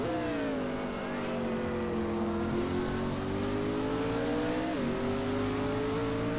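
Mustang and Viper race cars roar steadily at full throttle on the Phoenix circuit, a loud sustained engine drone with a brief gear-change dip near the end, an announcer talking over it.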